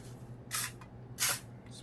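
Cooking spray is misted into paper cupcake liners in a kitchen, two short hissing bursts about half a second apart, close and moderately loud over a quiet background.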